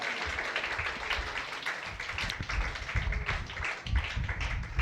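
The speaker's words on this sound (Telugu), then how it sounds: "గట్టిగా కోటాలి చప్పట్లు" During a worship service, a congregation claps loudly and steadily, with dense overlapping claps and some voices mixed into the crowd noise.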